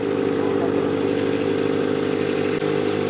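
A Kawasaki ZX25R motorcycle fitted with a Sphere full-system exhaust runs at steady high revs, a loud, raspy, continuous engine note with a brief dip near the end.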